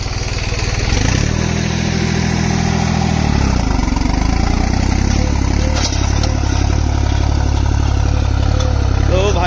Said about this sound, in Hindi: तो भाई वो ट्रैक्टर तेज चल रहा है,